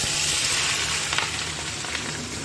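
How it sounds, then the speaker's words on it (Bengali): Capsicum and onion frying in plenty of oil, a steady dense sizzle heard up close with no talking. "এবার এর মধ্যে ক্যাপসিকাম আর পেঁয়াজ দিয়ে দেবো এই তেলের মধ্যে"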